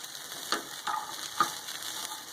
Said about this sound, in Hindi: और इसमें मैं भिंडियों को फ्राई कर लूँगी